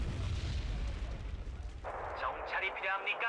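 Artillery fire in the Wargame: Red Dragon video game, a Second Korean War campaign, with a dense rumbling barrage of low booms throughout and sharper bursts and crackling impacts in the last second and a half, loud and continuous.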